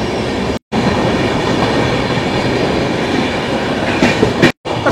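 The Sealdah–Jammu Tawi Humsafar Express runs fast through Jharkhand, passing stations with a loud, steady roar of wheels and rattling carriages, briefly cut by two short gaps, with no talking.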